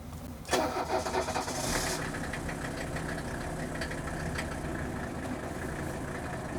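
A Mercedes W126 300SD diesel with a fuel problem cranks and fires with a sharp burst, then settles into a steady clattering idle that stays close and even for several seconds.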